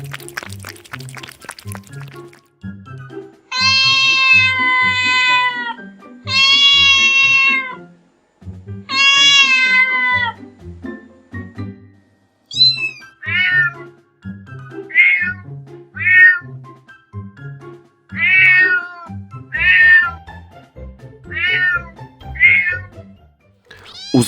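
A cat meows over and over, loud and close, with long drawn-out cries at first and then shorter, higher mews in quick succession.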